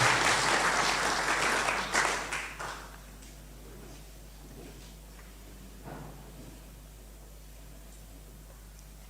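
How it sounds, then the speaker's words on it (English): Applause from a conference audience at a regional learning event on care reform, a burst of clapping that is strong at first, then thins to scattered claps and fades into quiet room tone. "I think the clap was not loud enough."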